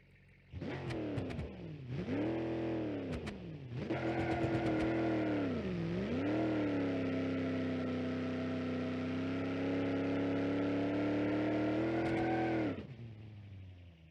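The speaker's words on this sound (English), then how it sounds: "This is a 440 cubic inch V8 inside of a land yacht, basically." Simulated 440 cubic inch V8 in a large land yacht car in BeamNG.drive, revving in short bursts before a long, loud, steady acceleration with rising and falling engine tone, then cutting off near the end.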